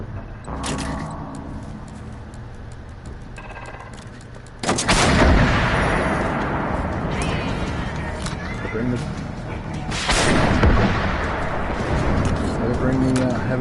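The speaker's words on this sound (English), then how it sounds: "Bring the heavy artillery." Heavy guns boom in a tank video game. Two loud, close blasts stand out, the second coming several seconds after the first, and each rolls into a long crackling rumble over continuous battle noise with lighter gunfire between them.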